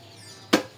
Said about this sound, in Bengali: আর এখানে আমি তাল ভাঙতেছি।